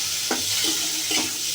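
Washed mung dal is stirred and fried in a pan, giving a soft steady sizzle with two or three distinct spatula scrapes over a short stretch, with no talking.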